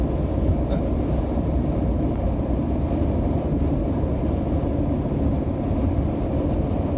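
Loud, continuous low rumble of a long container freight train rolling past nearby in the desert, steady and droning with no talking.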